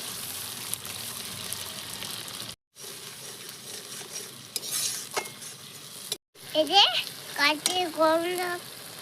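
Ginger garlic paste frying in a pan with pre-boiled onion, a steady sizzle with stirring scrapes and a couple of brief dropouts, louder bursts of hissing toward the end; a voice speaks over parts of it.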